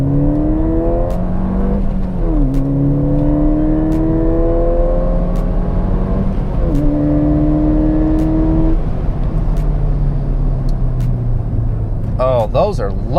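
A Ford Fiesta ST with mountune brake pads accelerates hard through the gears, engine tone climbing and dropping at each shift, loud and close from inside the car, with someone talking over it.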